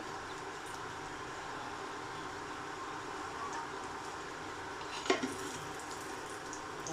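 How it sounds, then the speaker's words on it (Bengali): Steady, soft sizzling of Malabar spinach leaf fritters frying in a pan, a continuous crackling hiss with one brief clatter near the end. "দেখেন আমার এটা ভাজা হয়ে আসছে।"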